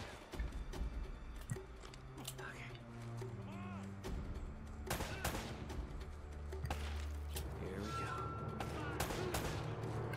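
Shotgun blasts in the video game Uncharted: Drake's Fortune come as several sharp, loud reports over a continuous game soundtrack and ambience, with reload clicks between shots.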